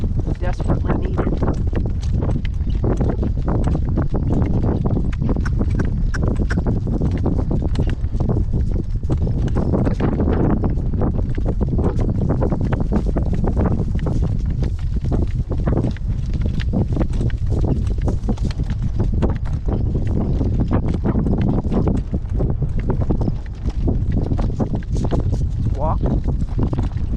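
A horse walks along a road on a blustery, windy day, its hooves clip-clopping steadily under heavy wind roar, with a person talking to it.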